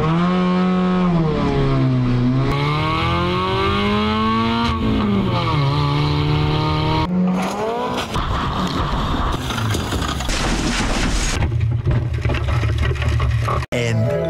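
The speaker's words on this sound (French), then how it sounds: "le but là, c'est de rouler à 80 km/h et d'enchaîner 2 tonneaux" A Mini car revs hard and accelerates toward roughly 80 km/h for a deliberate double-rollover stunt, its engine note climbing and falling through gear changes, loud and close, with a sharp knock near the end.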